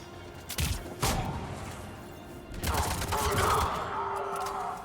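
Gunfire in Mass Effect 3 comes as a few sharp, close shots and impacts early on, then a denser burst of firing and clattering mixed with combat noise toward the end.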